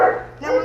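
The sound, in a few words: dog barking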